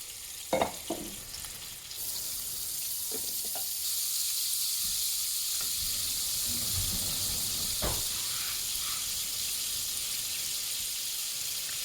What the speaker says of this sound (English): when you get your pan about medium heat, you're going to add some butter and some cooking oil